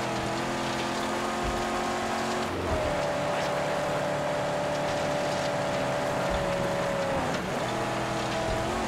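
A vehicle engine roars at full throttle in the Mad Max video game, a loud sustained drone with a steady pitch that dips briefly mid-run and again near the end over gritty road rumble.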